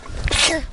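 A single short sneeze, close and fairly loud, from a person walking outdoors near a church.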